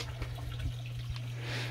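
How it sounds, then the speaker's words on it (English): Gentle trickling and splashing of a water feature beside a private outdoor shower at a Hawaii home, soft and steady under a low background hum, with no talk. "Now, this is really cool because they have this water feature here too."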